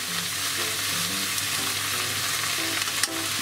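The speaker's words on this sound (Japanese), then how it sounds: "ちょっとまだ水分が多いんでね弾けるんだけど、もうこの水分をほぼほぼ全部飛ばします。" Radish pickles fry hard over high heat, a steady dense sizzle with scattered sharp pops from water spitting out of the pan, close and continuous with no voices.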